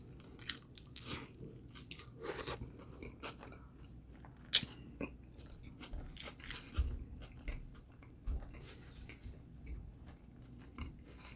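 Close biting and chewing of a stuffed barbacoa taco, with repeated soft crunches and wet chewing in quiet, irregular bursts and no talking.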